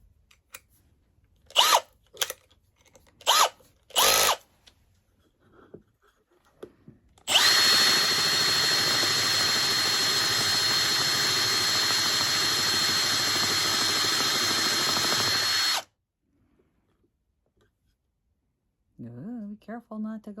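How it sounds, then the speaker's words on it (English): A power drill with a 5/8 paddle bit bores through the back of a wooden rosette in one long, loud, steady whine of about eight seconds, preceded by several short bursts and followed by faint voices. "That's a paddle bit."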